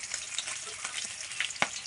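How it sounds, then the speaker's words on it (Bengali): Katla fish pieces fry in a pan in a home kitchen, giving a short, moderately quiet crackling sizzle with a few sharper pops. "মাছ ভাজা চলছে"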